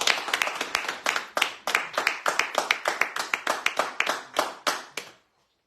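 A small studio audience claps in loose, uneven bursts for caregivers during a live radio show, the sharp individual claps clearly separated, running about five seconds before stopping abruptly into silence.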